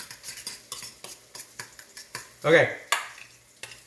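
Elk bacon burger mixture stirred and pressed around a pan, giving repeated rhythmic scraping and squishing strokes with a louder wet smear near the end; a voice speaks briefly.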